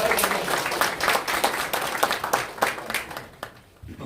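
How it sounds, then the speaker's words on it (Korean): Audience applause at a Seoul city policy forum on national pension and private equity funds, a dense patter of clapping that holds steady for about three seconds before thinning out near the end. "실수를 많이 하시면 그래도 잘하시라고 우리 박수 한번 주셔서 응원해봤으면 좋겠습니다."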